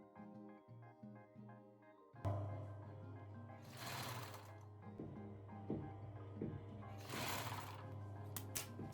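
A sewing machine stitches the curved seams of a Vivienne Westwood-inspired corset, starting after a quiet pause and running steadily with a loud motor hum and bursts of mechanical rattle.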